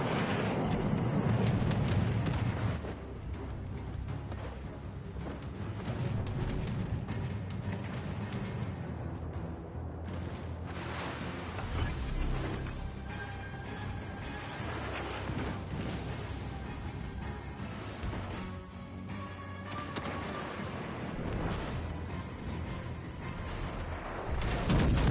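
Naval guns booming in World of Warships Legends, deep heavy blasts and rolling rumbles recurring over a constant low battle din, fairly loud and sustained, without talk.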